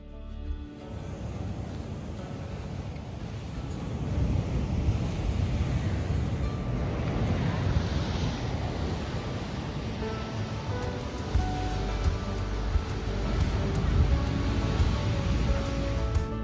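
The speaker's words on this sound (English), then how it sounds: "these sneaker waves are no joke" Sneaker waves breaking on a black sand beach in Iceland, a continuous low roar of surf with wind, building in intensity partway through and staying steady throughout.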